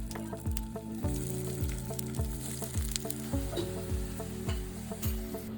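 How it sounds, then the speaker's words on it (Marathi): Soya chunk cutlets shallow frying in oil sprinkled with sesame seeds, a steady close sizzle with regular clicks and scrapes of a spatula repeating about every half second. "आता आपले कटलेट शॅलो फ्राय करून घेऊया"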